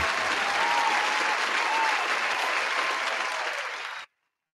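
Steady, loud crowd applause, a dense wash of many hands clapping continuously for about four seconds before cutting off abruptly, dropped in during a Spanish-language talk show segment.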